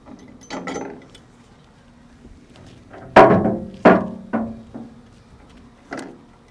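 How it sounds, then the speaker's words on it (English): Hand tools working on the faceplate hardware of a VMAX 1500 blast wheel during a rebuild, a handful of sharp metallic clanks and ratcheting knocks at irregular intervals in a quiet room. "I've loosened the hardware on the faceplate."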